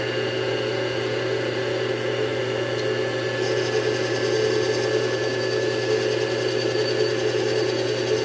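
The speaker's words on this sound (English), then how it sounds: "taking about 20 thousandths at a crack here, which is pretty good for this little lathe" A small lathe cutting aluminum gives a steady mechanical motor hum with a faint tonal whine, running evenly and close throughout with no talking.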